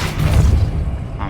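A Depulso force spell cast in the video game Hogwarts Legacy, heard as a short, loud low boom with a rumbling burst that fades over about a second.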